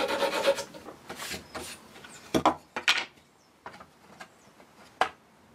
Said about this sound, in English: I wrap some sandpaper around it, and this makes for a handy improvised small file.